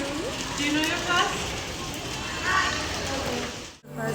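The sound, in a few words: heavy rain falling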